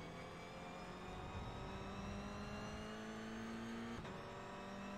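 A race car engine in the iRacing simulator drones steadily at high revs, with a sustained whine that shifts briefly around a gear change midway, close and constant with no voices.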